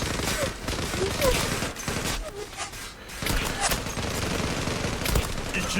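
Dense gunfire in the online shooter Zula, with rapid automatic bursts and overlapping shots that run loud and continuous, mixed with game noise and a voice talking over it.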